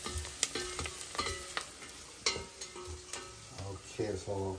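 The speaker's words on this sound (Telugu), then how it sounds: "మిక్స్ చేసేసుకొని కొంచెం ఫ్రై అయ్యే వరకు వెయిట్ చేద్దాం" Curry leaves fry and get stirred in a pan for masala multigrain kichidi: a soft sizzle runs under repeated scraping and clinking of the spoon against the pan, close up and fairly quiet.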